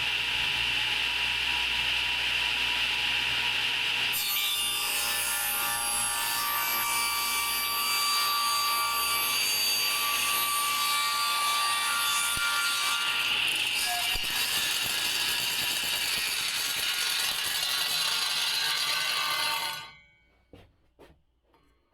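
A saw makes a cross cut through wood, a continuous high, rasping whine that starts abruptly, runs steadily for about fifteen seconds with shifting intensity, then cuts off and winds down into silence.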